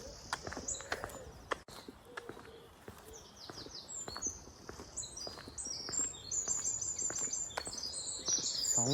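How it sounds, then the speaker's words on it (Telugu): Outdoors on a morning walk among trees, scattered birds chirp and tweet near and far while insects trill steadily in the background, with faint footsteps and rustling. "Bird sounds."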